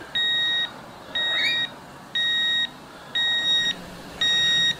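A Geiger counter held over a radiation source gives five evenly spaced electronic beeps about once per second, clear and close with a faint hiss between them.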